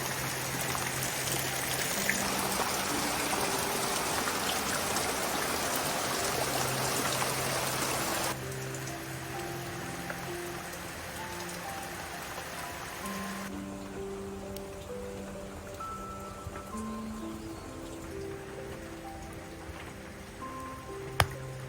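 Water runs through a freshly dug earth channel, a continuous rushing trickle that shifts in level twice as the flow settles, with no speech over it.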